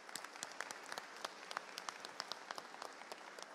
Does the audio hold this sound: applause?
yes